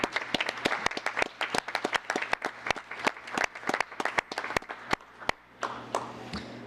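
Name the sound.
audience clapping for Melanie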